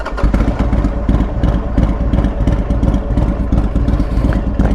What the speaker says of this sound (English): I'll fire the bike up and let you guys hear it